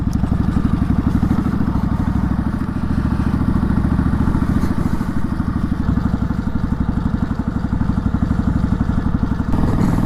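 Motorcycle engine drones loudly and steadily while riding on the road, a close, continuous rumble with rapid pulsing throughout and no talk.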